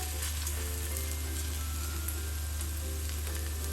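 Water lily flower pakoras fry in oil with a steady, even sizzle like light rain, close and continuous over a low hum.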